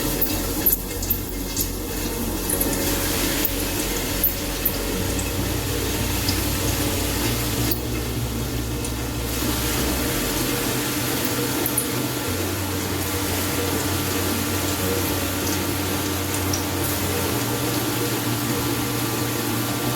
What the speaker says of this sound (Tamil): அந்த தண்ணியை கொஞ்சம் கொஞ்சமாக தெளித்து விட்டு அரைச்சிக்கலாங்க.